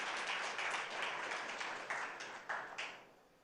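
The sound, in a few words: audience applause for a guest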